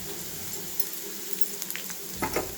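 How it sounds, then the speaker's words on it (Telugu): Coconut rice ingredients of grated fresh coconut, pepper powder and asafoetida frying in a pan, a steady close sizzle with faint stirring scrapes toward the end. "ఇలా కొంచెం డీప్ ఫ్రై చేయాలి."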